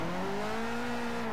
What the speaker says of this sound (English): But I really like the sound of this engine.